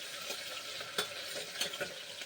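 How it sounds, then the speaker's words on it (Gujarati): Onions fry in oil in a pan for a vegetable curry tempering, with a steady soft sizzle and occasional stirring scrapes, close and fairly quiet. "ડુંગળીનો આપણે વઘાર કરવાનો છે જેથી આપણું શાક બહુ સરસ ટેસ્ટી થશે"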